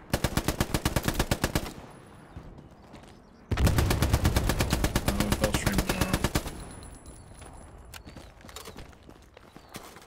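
Machine gun fire in Hell Let Loose, two long rapid bursts from a nearby gun, the second louder and heavier, followed by quieter distant gunfire and battlefield noise.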